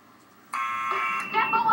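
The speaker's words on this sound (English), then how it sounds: "let's go ahead and ring this buzzer over here" Door buzzer rung in Back to the Future: The Game on Wii, a harsh electronic buzz starting abruptly after a quiet moment and holding steady to the end, with a voice speaking alongside it near the finish.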